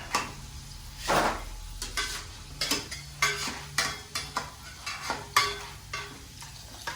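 Hot oil sizzles steadily in a pan while chips are stirred and scraped around in repeated bursts, close up.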